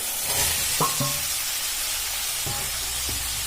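Pre-fried potatoes added to cooked spiced oil in a pan, a steady close sizzle with a few soft clinks and scrapes of stirring, no talking.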